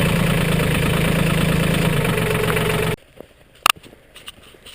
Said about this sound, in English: I had the tractor running for about 15 minutes to